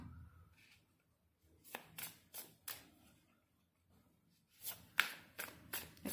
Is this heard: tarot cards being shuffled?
yes